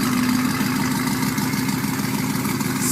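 A cammed Ford Mustang GT with long-tube headers and a Pypes bombs off-road X exhaust idles close by with a loud, lopey, choppy rumble that holds steady throughout.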